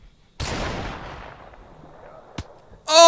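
A single loud magnum gunshot from Modern Warfare Remastered cracks out and rings into a long decaying tail, followed by a faint click and a brief sharp game effect at the end.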